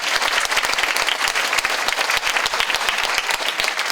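An audience at a church symposium gives a speaker a big round of applause, dense, loud, sustained clapping with many distinct sharp claps throughout.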